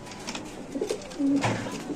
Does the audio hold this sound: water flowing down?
no